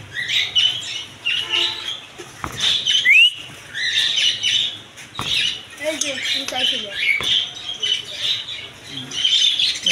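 Caged lovebirds and other pet birds at a busy bird and pigeon market in Kashinathpur, Pabna, squawking and chirping continuously and loudly, with dense overlapping calls and scattered clatter throughout.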